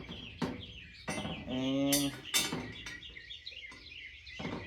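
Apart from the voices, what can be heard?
birds chirping loudly outdoors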